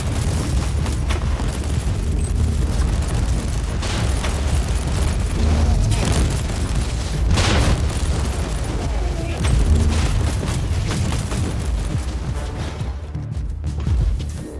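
Turret gunfire and explosions from the Warhammer 40,000: Inquisitor Prophecy video game, with dense, continuous booming blasts and rattling shots filling the whole stretch at a steady loud level.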